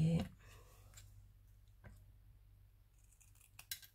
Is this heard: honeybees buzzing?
no